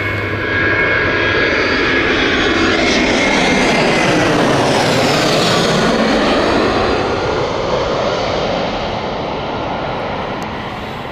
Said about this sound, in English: Here is the jet inbound.